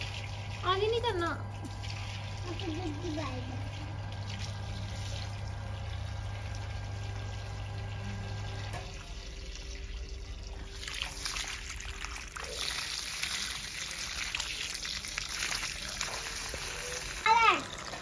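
Water runs from a tap in a steady, gentle trickle while a child plays nearby, with voices talking at times over the flow.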